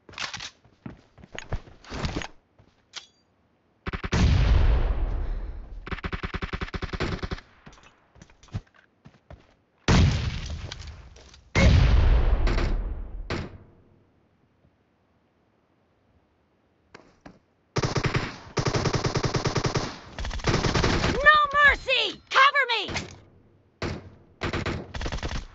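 Automatic AKM rifle fire in a video game: several loud, rapid bursts broken by short pauses, with a final cluster of fast shots near the end.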